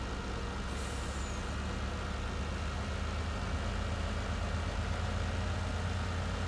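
Farm truck in Farming Simulator 19 driving steadily, a continuous low engine rumble with road noise throughout and a brief higher hiss near the start.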